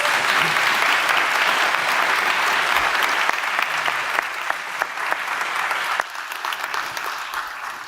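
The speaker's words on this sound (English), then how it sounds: "Please join me in giving a round of applause to our speakers and saying thank you to them." Sustained applause from a conference audience at a global solutions summit, dense steady clapping filling the room for about six seconds before thinning out toward the end.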